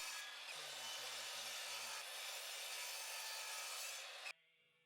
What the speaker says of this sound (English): I cut the angles out on the miter saw